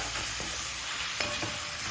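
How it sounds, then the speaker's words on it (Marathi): Onion with a coarse green chili, ginger, garlic and curry leaf paste is sautéed in a pan for masala dosa filling. It makes a brief, steady hiss and crackle with a couple of soft stirring scrapes. "आता आपण ही मिरची आलं लसूण आणि कढीपत्ता मिक्सरमध्ये जाडसर वाटलं होतं ते घालून घे घेऊ आणि छान परतून घेऊया"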